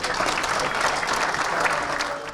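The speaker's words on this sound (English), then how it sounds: "Let's have a round of applause." Steady, dense audience applause for football figure Ian Holloway, a continuous wash of clapping from a crowd throughout.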